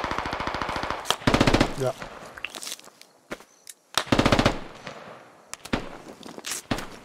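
Automatic gunfire in the video game Squad on the Yehorivka map, rapid rattling bursts and single shots at close range with quieter distant shots between them, while a player speaks briefly.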